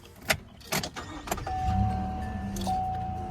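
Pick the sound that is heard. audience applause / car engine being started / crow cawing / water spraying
car engine being started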